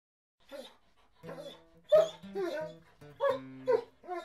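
A dog barks and yips in short bursts, mixed with whimpering sounds, close and moderately loud, with voices chattering alongside.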